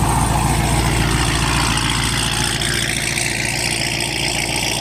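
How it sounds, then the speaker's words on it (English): A car engine with an aggressive camshaft idles with a loud, lumpy, choppy rhythm that holds steady and close for the whole stretch, with no speech over it. "That is the meanest sounding cam I think I've heard in a while."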